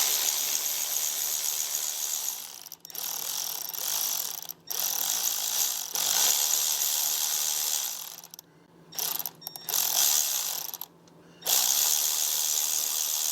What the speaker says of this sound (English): Grab our ratchet here